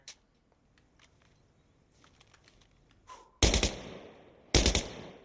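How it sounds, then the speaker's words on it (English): Two loud burst-fire gunshots from a rifle in Insurgency Sandstorm, one at about three and a half seconds and one a second later, each cracking sharply and fading into a short tail, after quiet faint clicks and handling sounds. "See how the burst fires?"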